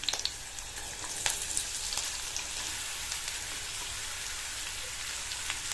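Cut bitter gourd pieces and green chillies frying in oil over high flame, a steady dense sizzle with crackling pops, loud and close without any voices.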